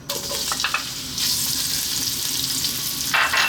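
Onions drop into hot olive oil in a pan and fry with a bright, lively sizzle. The hiss swells when they go in and again near the end as they are stirred.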